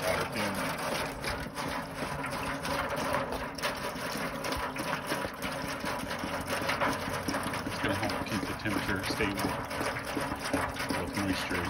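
A steady, rushing stream of water runs continuously, splashing into a pan beneath a smoker with a constant hissing gush throughout.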